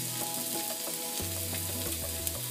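Salmon fillet, skin side up, searing on high heat in a cast iron skillet, giving a steady close sizzle with faint scraping and stirring sounds and no voices.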